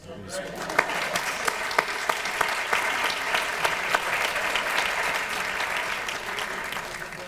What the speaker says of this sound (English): I want to have a round of applause for that beautiful baby